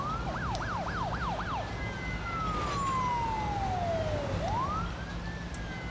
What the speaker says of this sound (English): Off go the sirens.